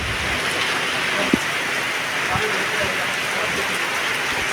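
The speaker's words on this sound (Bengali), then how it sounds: "প্রচুর বৃষ্টি" Heavy rain pours down at a four-way crossroads in a Gazipur village, a dense, steady hiss of drops on surfaces close around, with a single sharp knock partway through.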